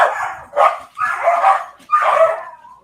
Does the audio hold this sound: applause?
no